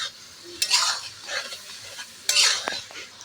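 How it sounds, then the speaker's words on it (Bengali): Washed prawns stirred and fried in a pan for a pumpkin and Malabar spinach curry: two bursts of scraping and sizzling, separated by quieter frying, with no talk. "দিয়ে এটাকে আমি একটু ভালো করে ভেজে নেব।"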